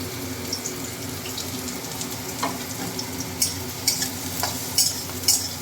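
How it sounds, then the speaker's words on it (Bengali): Chopped onions frying in a pan for tarka dal, a soft steady sizzle under scattered scraping stirs and clinks, fairly quiet and without talk. "পেঁয়াজটা আগে ভেজে নিতে হবে লাল লাল করে পেঁয়াজ কুচিয়ে নিয়েছিলাম পেঁয়াজ কুচি দিলাম"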